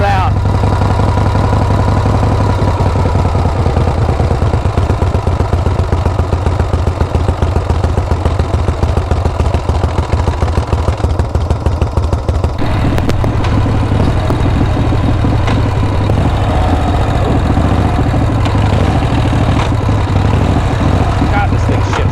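Shovelhead motorcycle engine idling steadily and loudly up close, with a rhythmic, lumpy pulse that shifts in tone partway through as the idle is adjusted down.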